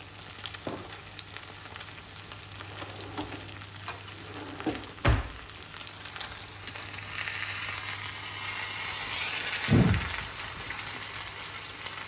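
Plymouth Dover sole pan-fries with a steady, close hiss and crackle of hot fat, swelling slightly toward the end, broken by a couple of brief knocks and clatters from the pan.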